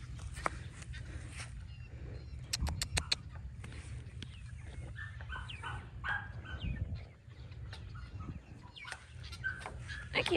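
A flock of chicks in a frenzy, cheeping and peeping continuously with sharp bursts and flutters, close by and fairly quiet, with a few brief thumps among the chatter.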